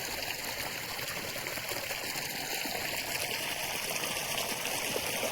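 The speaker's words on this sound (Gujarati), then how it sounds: "બાજરામાં પાણી તો ચાલુ જ છે" Irrigation water runs through a pearl millet field, a continuous trickling, gurgling flow that stays even and close for the whole stretch.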